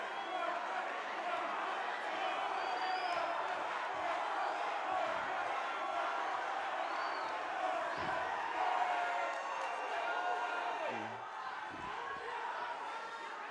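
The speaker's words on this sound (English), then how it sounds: "I'm pretty sure you can hear the crowd behind me." Crowd noise at a professional 135-pound MMA bout fills the background as a steady, distant roar of voices and cheering, with an announcer talking over it throughout.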